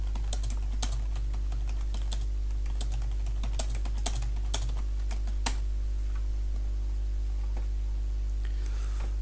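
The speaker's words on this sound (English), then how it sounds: "Let's type it." Steady typing on a computer keyboard, with uneven clusters of close, crisp key clicks over a constant low hum and no talking.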